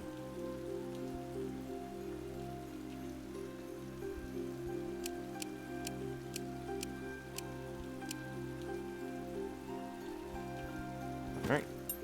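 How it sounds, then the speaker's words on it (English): Rain falls steadily in the fantasy video game Thea 2: The Shattering, a soft constant patter on surfaces lasting throughout, with faint clicks and a brief swoosh near the end. "Yay, it's raining."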